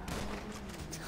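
Rapid bursts of video game gunfire in GTA, dense and continuous over a busy, noisy backdrop with no clear gaps between shots.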